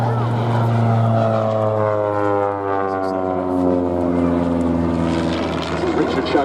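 A Pitts S-1D aerobatic biplane's propeller engine drones steadily during a solo display at Duxford Airshow in the UK, loud with a shifting pitch as it maneuvers, while a commentator talks over it.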